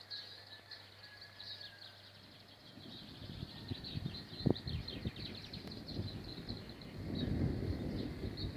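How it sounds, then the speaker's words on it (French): Thunder from a moderate summer storm rumbles low and builds toward the end, with a sharp crack midway, while birds chirp steadily in the background. "Attention le tonnerre"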